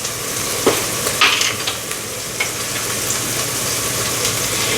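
Garlic is tossed into cooked onions in a pan for broccoli cheddar soup, with a continuous close sizzle and a few clinks and scrapes from stirring.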